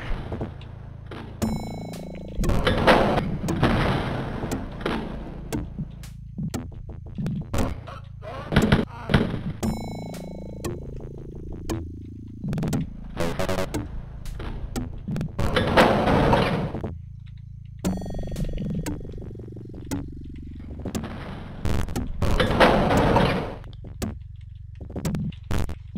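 Retro first-person shooter gunfire from Wolfenstein 3D, with repeated bursts of rapid shots in clusters, loud and close, separated by short gaps and descending pickup-style tones.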